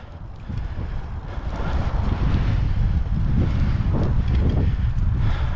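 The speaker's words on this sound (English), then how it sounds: "this wind." Wind buffets the microphone during a bike ride, a loud, broad rumbling roar that swells after the first second and stays heavy and gusty throughout, with no voices.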